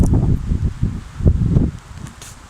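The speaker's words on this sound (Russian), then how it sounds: "Ветер такой, что планшет вырывает из рук." Strong wind buffeting the microphone in a forest during a cold run, with loud low rumbling gusts that swell and ease across the clip and a faint leafy rustle above them.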